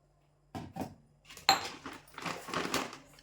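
Dry rice poured into a kitchen container for soaking before making dosa batter, heard as a few short rattling, clattering bursts of grains and a clink against the vessel, close and fairly quiet.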